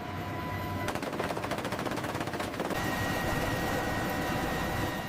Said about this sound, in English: A minigun operator also engages targets